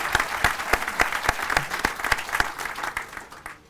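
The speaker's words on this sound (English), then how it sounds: "let's give Tom a big round of applause for one of the hardest jobs here." Applause at a circuit courthouse groundbreaking ceremony: a steady wash of clapping from a modest crowd, close and even, with a few sharper individual claps standing out before it starts to thin near the end.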